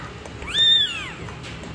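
A mother cat, part of a litter of Persian kittens at a check-up, gives a single rising-and-falling meow, close and clear over faint room noise.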